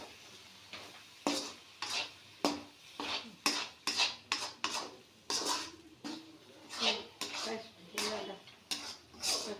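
Chicken curry being stirred in a pot, a spoon scraping and clinking against the metal in a steady series of sharp strokes, close and fairly quiet.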